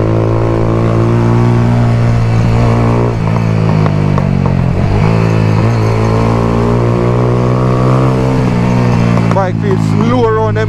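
A motorcycle engine drones steadily while someone rides it on a trip to the beach at Strawberry Fields, St. Mary, Jamaica. The note stays loud and continuous with slight pitch swells, and voices talk over it.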